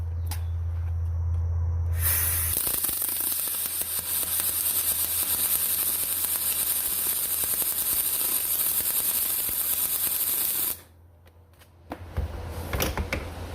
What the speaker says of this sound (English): Now let's turn the wire speed down, and I want you to listen to what it sounds like.